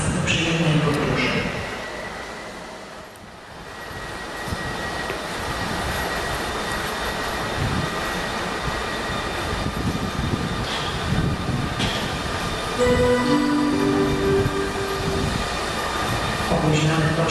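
The Connecting Europe Express special train sits at a Kraków station amid a dense, continuous rail and platform rumble with faint wheel squeal, while a station announcement plays over the noise.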